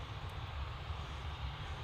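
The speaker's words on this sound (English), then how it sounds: "Little posh jet is pushing in front," Cessna 510 small business jet taxiing at Manchester Airport, a steady low engine rumble with broad hiss, moderately distant and continuous without talk.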